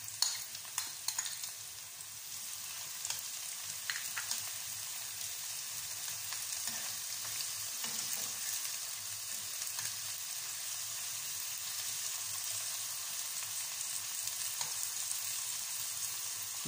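Chicken breast pieces fry with onion and coriander in a pan, a steady close sizzle that runs throughout, with occasional light stirring clicks and no talking.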